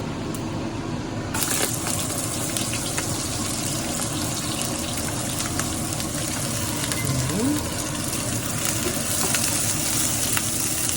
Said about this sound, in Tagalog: So, nagigisa na tayo ngayon. Olive oil. Tapos, ilalagay na natin itong onion.